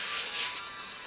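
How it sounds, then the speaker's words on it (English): An S90V steel knife blade rubs across sandpaper in a short, close, raspy stroke that fades into a lighter scrape, with no speech. "Back to sharpening."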